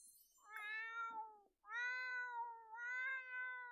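A kitten meows in a Sims video game, three drawn-out, tonal meows in succession, clear and close against a quiet background.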